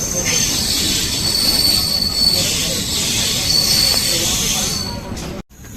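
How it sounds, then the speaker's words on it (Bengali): Train wheels squeal loudly along the rails as the carriages roll slowly into Rampurhat station, with steady rumbling underneath, then a brief drop-off and clunk near the end. "এখন ট্রেন আমাদের ঢুকছে রামপুরা স্টেশনে"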